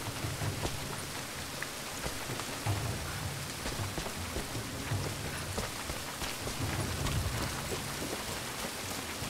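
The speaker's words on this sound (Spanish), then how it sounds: "Uy, está lloviendo." Steady rain falls in the video game Rise of the Tomb Raider, a soft, continuous patter with scattered drops that stays quiet and even throughout, with no voices.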